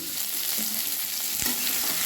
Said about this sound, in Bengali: মশলাগুলো এইভাবে ভাজা থাকবে